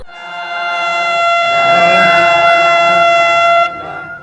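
A loud, steady prison siren blares continuously for several seconds, then abruptly cuts off.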